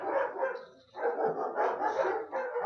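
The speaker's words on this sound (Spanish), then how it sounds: "mis perros" Several dogs bark almost continuously in overlapping, rapid yaps and woofs, close by and fairly loud, with only a brief dip before the barking resumes; no speech.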